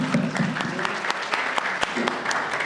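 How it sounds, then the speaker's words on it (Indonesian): Applause at an installation ceremony for an organisation's new officers, a crowd clapping steadily with distinct sharp claps standing out, with a voice briefly audible underneath. "ya tepuk tangan"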